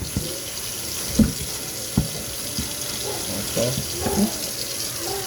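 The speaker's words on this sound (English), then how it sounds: "Wash the cutting board." Tap water runs steadily into a kitchen sink while a cutting board is washed, with soft thumps and clatters of the board against the basin and a brief spoken word over the flow.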